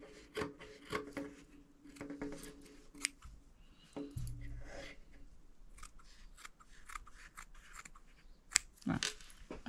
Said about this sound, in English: So we'll just quickly rough cut that out.